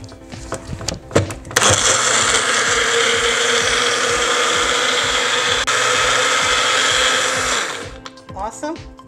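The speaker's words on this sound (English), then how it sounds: "We're going to blend it all up. Make sure the onions are chopped. Everything's marinated. We're going to use our magic bullet." A Magic Bullet blender whirs through a chicken taco marinade with chopped onions, a loud continuous roar lasting about six seconds, with brief handling clatter and a voice before and after.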